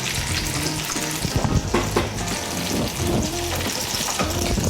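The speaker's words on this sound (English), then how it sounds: "I'm adding the pears to a hot pan with melted butter" Pears fry in a hot pan of melted butter, sizzling loudly up close with bursts of crackle and spatter and a few stirring knocks.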